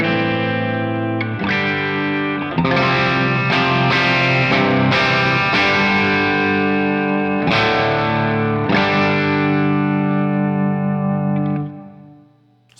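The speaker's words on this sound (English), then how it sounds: "You're hearing just a little bit of breakup on the amps" Electric guitar chords ring out with slightly gritty amp breakup, trailing delay repeats and reverb, played alone before fading away at the end.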